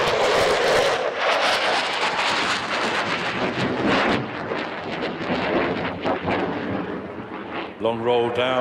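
An F-16 fighter jet in a flying display at the Farnborough International Airshow, a loud, rumbling jet roar that swells and fades as it passes, with a commentator talking over it near the end.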